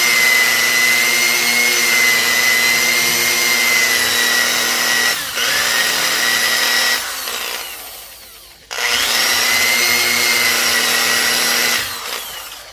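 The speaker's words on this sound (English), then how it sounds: "I drilled my hole out real good" A power drill bores through an artificial skull for a European horn mount, a steady loud whine running in long stretches, dropping out briefly around the middle before resuming, with no talk.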